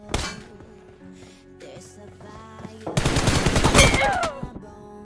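Rapid automatic gunfire bursts in a team deathmatch round of a shooter video game, a dense, loud volley erupting mid-clip after quieter game ambience and scattered shots.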